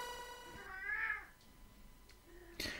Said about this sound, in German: unsere Katze schreit sehr viel